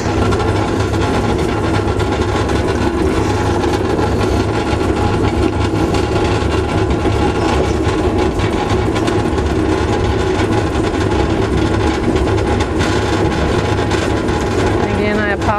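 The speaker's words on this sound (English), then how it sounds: "Again, I apologize that my wheel is noisy. This is an old Lockerbie wheel" An old, noisy Lockerbie pottery wheel runs continuously with a loud, steady mechanical hum and rattle, close up and unchanging in level for the whole stretch.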